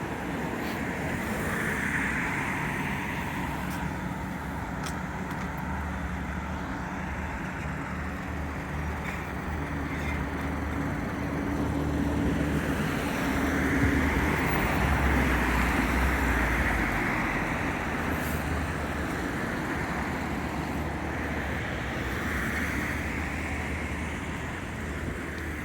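Steady city street traffic near Yonge and Bloor in Toronto, a continuous wash of passing car engines and tire roar with wind buffeting the microphone, swelling slightly in the middle without clear individual vehicles.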